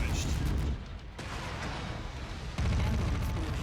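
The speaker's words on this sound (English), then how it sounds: "Ammo explosion detected." An ammunition explosion erupts in a mech combat video game amid ongoing gunfire, a loud rumbling burst that bursts in near the end over a steady din of shots, with voices underneath.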